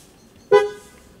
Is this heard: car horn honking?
yes